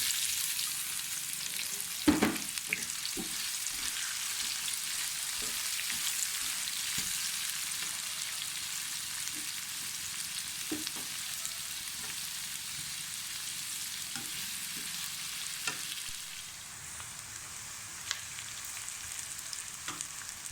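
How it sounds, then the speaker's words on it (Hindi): Onions frying in hot oil for masala aloo bhindi, a steady soft sizzle running throughout with occasional sharper crackles and a few stirring knocks, fairly quiet and unbroken by talk. "अब उसी ऑयल में आप प्याज डाल दें"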